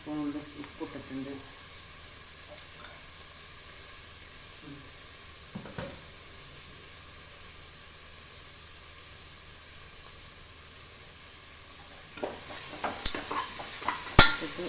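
Onions sautéing with salt in a pan, a soft steady sizzle with occasional stirring scrapes, quiet and continuous, with a few louder clinks near the end.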